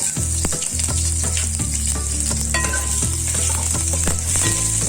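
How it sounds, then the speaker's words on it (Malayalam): Crushed garlic fries in hot coconut oil, a loud continuous sizzle and crackle that stays close and steady throughout, with some stirring scrapes mixed in. "ഇപ്പം നമ്മുടെ എണ്ണ ചൂടായി. അതിനകത്തോട്ട് ഒരു പിടി ചതച്ചു വെച്ച വെളുത്തുള്ളി ഇട്ടു."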